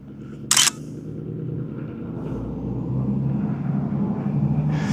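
A loud truck rumbles past on a small-town downtown street, a steady low roar that builds slightly over several seconds, with a brief sharp click of a single-lens reflex camera shutter near the start.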